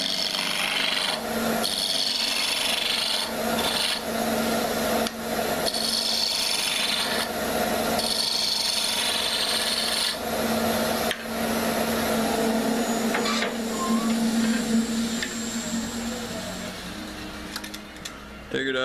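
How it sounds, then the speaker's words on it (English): A square stem of cherry wood spins on a wood lathe while a tool cuts it round, giving a steady rasping, scraping hum with short breaks between cuts, close and prominent. "we're going to turn the stem for the top now. Piece of cherry"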